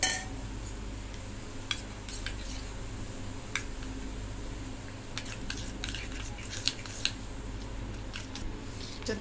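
A spoon stirs spices into yogurt in a bowl for shev bhaji, making soft wet squishes with occasional light clinks against the side, quiet and close.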